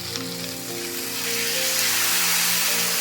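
Raw banana kofta curry masala frying in a pan, a steady close sizzle that grows louder and hissier over a few seconds, with no talking.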